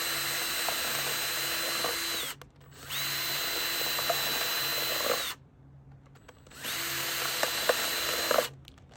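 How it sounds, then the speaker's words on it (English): A cordless power drill whines at a steady high pitch drilling through stacked plastic cups, in three bursts of roughly two to three seconds each, with brief quiet pauses between runs. "I'm going to drill about 3 holes in the bottom of this"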